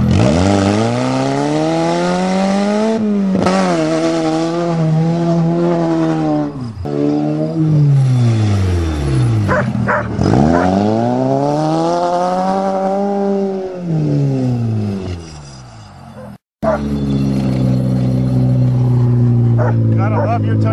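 A Toyota GTS starts and drives off on a farm, its engine rising and falling through repeated revs, loud and close, with a dog barking and a brief cutout near the end.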